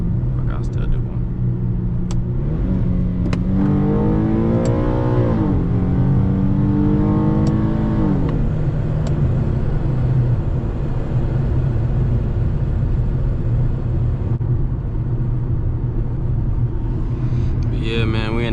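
An Infiniti G37S engine revs and accelerates hard on a country road, the pitch climbing through several gear pulls with a loud, close rumble beneath a voice.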